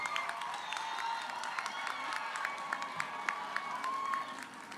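A commencement crowd at the University of the Virgin Islands applauds families for their support: a continuous wash of clapping with scattered sharp claps and occasional cheering voices, steady throughout and tapering slightly at the end.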